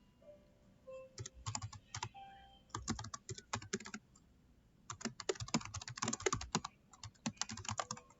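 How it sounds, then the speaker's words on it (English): Typing on a computer keyboard: quick bursts of keystroke clicks, clear and close, in irregular clusters separated by short pauses, with no talking. "Bear with me as I type."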